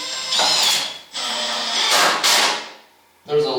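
A power drill drives two screws into a wooden reloading bench, sounding in two long close whirring bursts with a short pause between them and a brief thump near the end.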